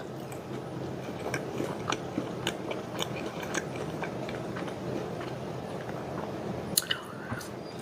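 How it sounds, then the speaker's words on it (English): Close, wet chewing and biting of Wendy's fast food, with squishy mouth noises and small clicks repeating steadily throughout. "the eating sounds in this are pretty pretty extreme"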